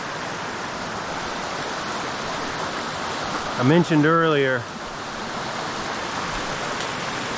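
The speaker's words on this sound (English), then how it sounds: "You can hear some good roaring water" Roaring creek water in the Great Smoky Mountains backcountry gives a steady broadband rush throughout, heard from nearby, while someone speaks briefly over it partway through.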